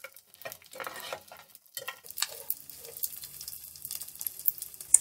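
Dough puffing as it fries in ghee, faint bubbling and crackling with intermittent light scraping and clinks from stirring, quiet throughout and without speech.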